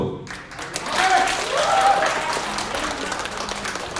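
Warm applause from a convention audience welcomes the chairman, a dense wash of many hands clapping that rises after a brief pause and holds steady, with a voice briefly audible at the start.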